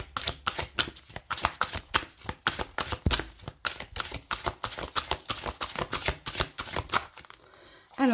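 Small tarot advice cards are shuffled by hand in quick, crisp riffling flicks, close and steady for several seconds, with a soft voice faintly in the background.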